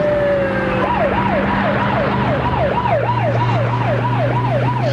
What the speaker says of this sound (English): Sirens make me jumpy.